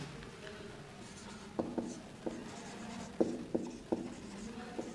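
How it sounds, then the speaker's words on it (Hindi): Chalk or marker taps and scratches on a board while a maths question is written out, coming as a few faint, irregular strokes against quiet room noise. "तो मैं अगले टाइप का क्वेश्चन लिखूँगा"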